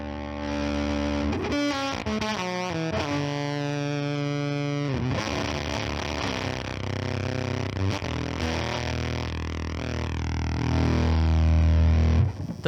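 Electric guitar played through an EHX Percolator fuzz pedal with two clipping stages at once, giving sustained distorted notes and chords with a buzzy, sputtering fuzz tone, steady and alone throughout.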